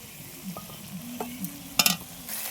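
Sour yogurt going into a spice masala of turmeric, red chilli powder and tomato frying in oil over a wood fire, with short scraping stirs and sharp sizzling bursts, no voices.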